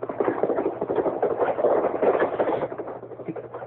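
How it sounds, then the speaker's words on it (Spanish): A horse's hooves clip-clop as a radio drama sound effect, with a steady trotting patter of knocks under a low constant hum. The sound is fairly soft and muffled. "¿Quién va allá a caballo?"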